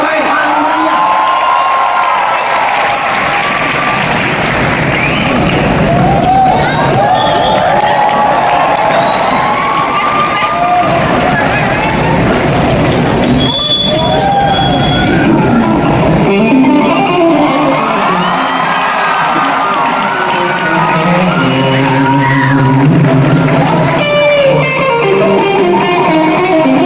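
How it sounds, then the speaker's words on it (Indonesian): A large church crowd at an evangelistic harvest gathering cheers and shouts loudly and without a break, with whoops, children's shouts and scattered clapping filling the whole stretch at high volume. "Ayo sambut dengan sorak-sorai yang meriah."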